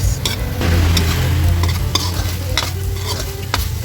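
Sweet potatoes frying in a pan while being stirred, with a loud close sizzle and repeated scraping, clattering strokes of the utensil against the pan.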